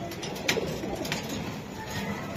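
Pigeons cooing in a loft among high-flyer and racer birds, soft low coos rising over a steady background hiss.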